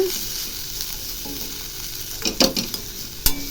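Papad stir-fry tossed with curry leaves and coriander sizzles loudly and steadily up close, with a burst of scraping stir strokes near the end and one sharp knock of the spatula.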